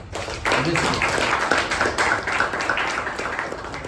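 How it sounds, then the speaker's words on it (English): Applause from attendees at a Toastmasters meeting, a small group clapping in a brisk, steady patter that starts abruptly and carries on close and fairly loud. "A big round of applause for Toastmaster Rachana and also Subha."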